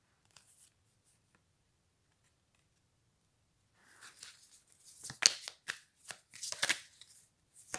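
Tarot cards drawn from a deck and handled during a reading, heard as a near, crisp run of paper shuffling, sliding and flicking that builds up after a quiet start, with no talk.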